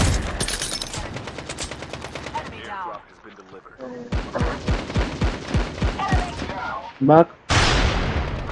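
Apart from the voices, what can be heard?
sniper rifle gunfire in video game Call of Duty Mobile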